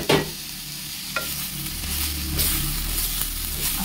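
Mint and coriander leaves sizzle and fry in a pan, a soft, steady crackle with a few stirring scrapes and light clatters, no talking.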